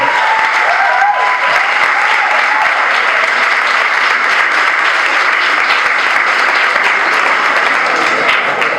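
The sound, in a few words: audience applause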